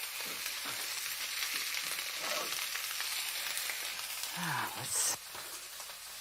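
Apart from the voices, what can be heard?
lamb chops (scottadito di agnello) searing in a pan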